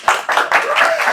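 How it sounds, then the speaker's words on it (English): An audience claps at a construction contracting class, a brief burst of close, loud hand claps in an uneven rhythm with a hint of voices underneath. "Let's give him a warm applause."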